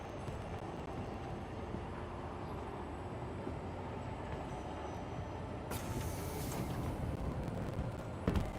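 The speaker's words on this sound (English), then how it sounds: "Tram now approaching." A tram pulls into a station platform in the Star Citizen game on the Orison network, a steady low rumble of rail rolling with a brighter hiss and clatter rising near the end as it arrives.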